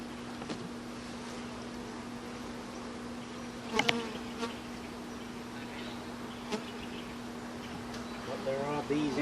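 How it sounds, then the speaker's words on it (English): Honey bees buzz around an opened hive, a steady droning hum with a few louder passes close by and a brief knock midway, no talk. "There are bees in there, and there's lots of bees up here"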